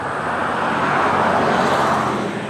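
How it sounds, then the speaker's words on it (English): Road traffic passing a residential driveway at the evening commute, a loud, steady broadband roar of nearby vehicles with no pause and no voices. "traffic's picking up. So excuse us, bear with the noise"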